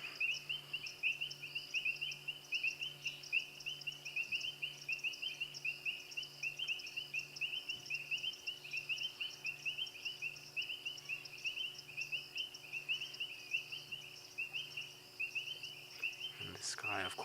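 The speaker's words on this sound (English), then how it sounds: "So nice just to sit and listen to the sounds of the frogs in the" Frogs call at night on an African safari, a steady rapid pulsing chorus with a constant insect-like trill over a low drone, moderately distant and continuous throughout.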